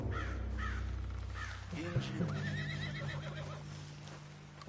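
A horse in a video game whinnies once, fairly loud, over a low droning background with crows cawing and hooves clip-clopping nearby.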